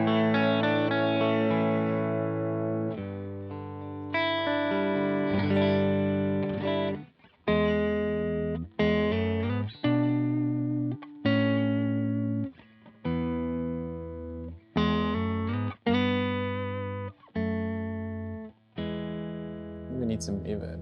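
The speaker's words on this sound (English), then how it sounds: "let me show you what the amps sound like with nothing on" Electric guitar played through clean amp models on a Line 6 HX Stomp XL, picked chords and single notes ringing out in phrases with short gaps, bright and close, with no effects added.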